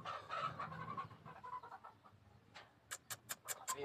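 White chickens on a farm cluck and murmur close by, ending with a quick series of sharp, rhythmic clucks.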